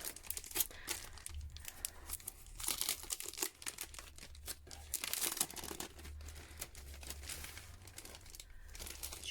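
A paper card is unwrapped and handled close up, with continuous soft crinkling, rustling and small tearing sounds.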